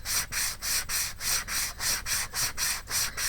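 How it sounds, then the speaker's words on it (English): Hand sanding of a wooden door hanging's edges at a 45-degree angle, a close, rhythmic back-and-forth rasp repeating about every third of a second with no talking. "So I'm just gently sanding it in, and I'm doing it at a 45-degree angle"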